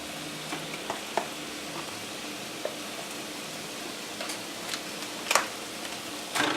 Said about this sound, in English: we're going to add our meat. And what I'm using is ground turkey.